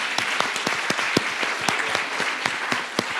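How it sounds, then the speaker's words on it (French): An audience at a medical conference on nutrition gives applause, a dense bed of clapping with distinct louder individual claps punctuating it at an uneven rhythm, steady throughout. "Je vous propose de vous applaudir."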